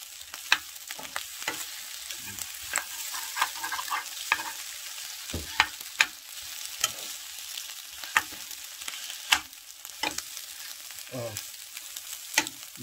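Cup ramen fried rice is stir-fried in a hot pan, a steady sizzle broken by sharp scraping and clattering strokes of the utensil at a close, busy pace.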